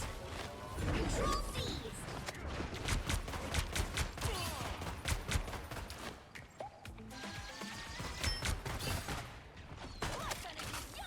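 Rapid bursts of gunfire from Phoenix's bullets in Marvel Rivals crackle repeatedly at moderate volume, mixed with impacts and game effects, while a person talks at times over the chaotic action.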